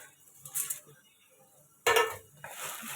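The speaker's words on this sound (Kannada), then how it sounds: "ಸ್ವಲ್ಪ ಸಾಸಿವೆ ಹಾಕೋಣ" Mustard seeds go into a pan with a couple of short, bright rattling bursts, close and fairly faint against a quiet kitchen background.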